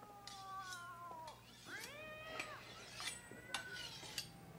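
Two cats fight outdoors, a young black cat and an old white and gray tomcat, trading drawn-out rising and falling yowls and caterwauls that overlap closely for several seconds.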